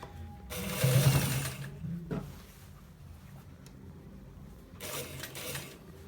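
Sewing machine stitching a shirt: two short bursts of running close by, one early and one near the end, separated by quieter handling noise and a brief clunk.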